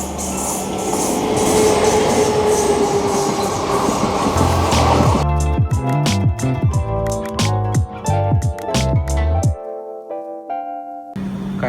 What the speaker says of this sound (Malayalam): ആ ട്രെയിൻ ഇവിടെ എത്തി.